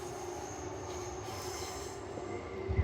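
A train rolls steadily along the rails with a constant rumble and a thin high squeal from the wheels, no talking.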